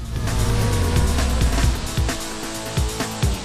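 A Radical SR3 Supersport open-cockpit race car drives hard, its engine loud and close with rapid up-and-down revving and shifts, alone without voices.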